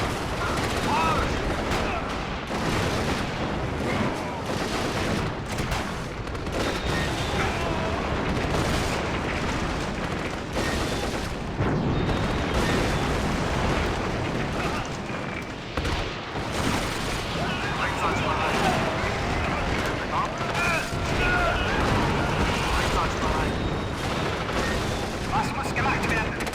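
Artillery guns boom in the video game Axis & Allies, a dense, continuous barrage of heavy firing and explosions at high level, with game voices mixed in.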